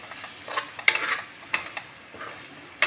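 Gram flour roasts with onions in hot oil, giving a soft, steady sizzle broken by a few sharp scrapes and clinks as the mixture is stirred in the pan.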